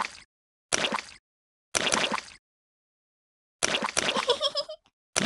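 Cartoon pigs and a rabbit jumping up and down in muddy puddles, making repeated loud wet splashes in separate bursts with silent gaps between them, the last burst ending in a squelchy, bubbly trail.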